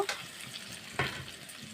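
Grated pointed gourd tipped into a pan of frying onions, giving a soft sizzle with two brief bursts of stirring and dropping, close and fairly quiet.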